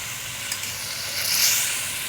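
Sauce thickened with a cornflour mixture boils over high heat while being stirred in a pan, producing a continuous dense bubbling hiss and sizzle with faint scrapes, close and alone.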